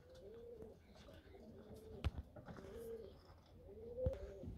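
Pigeons coo inside a pigeon loft, soft repeated low calls with a few sharp knocks, close by and steady throughout.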